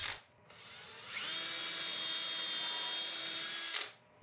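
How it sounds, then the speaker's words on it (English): A power drill with a 1/8 inch bit bores a pilot hole about 2 inches into a cable railing post: a short spin-up, then a steady high whine for about two and a half seconds before stopping, close and alone. "Using a 1/8 inch bit, drill the pilot holes that are needed for your tensioners at each mark, approximately 2 inches into your post."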